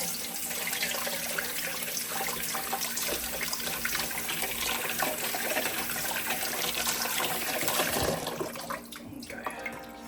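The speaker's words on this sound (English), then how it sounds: "rinse it really well in their cold water" Pickles rinsed under cold running tap water in a kitchen sink: a steady, close gush of water that runs unbroken for most of the clip, then thins and shifts near the end.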